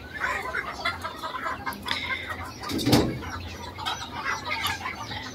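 Ornamental Malay fan-tailed chickens cluck in a short run of soft calls, with a sharper burst near the middle, all close by and without speech.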